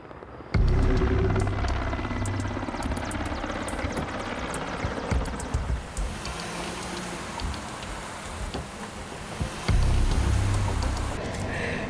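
A helicopter flies over a residential neighborhood in the Zapopan metropolitan area during a navy operation, its low steady rumble continuous throughout with a broad wash of noise and scattered ticking, no talk.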